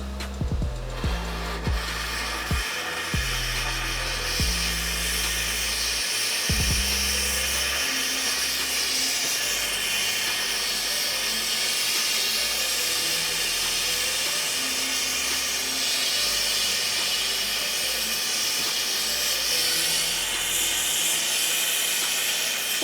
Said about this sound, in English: Put my sterling silver in. And now I'm going to melt everything.